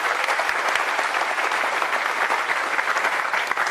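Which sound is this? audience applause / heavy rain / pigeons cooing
audience applause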